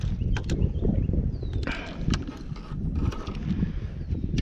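A close, steady ratcheting whir of a fishing reel being cranked to tighten line, with a few sharper clicks over a low outdoor background on the Lower James River.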